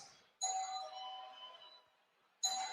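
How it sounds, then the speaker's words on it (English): A doorbell chime rings out over the PA in a hockey arena during a game, two bright, ringing tones that sound and then decay, followed by another strike starting at the end. "Now it looks like they're ringing the doorbell"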